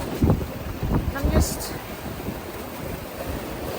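Wind gusts and rough sea on a small sailboat sailing solo from Estonia toward Fårö with reefed main and genoa: steady loud broadband rush of wind over the mic, with surging wave swells in the first seconds.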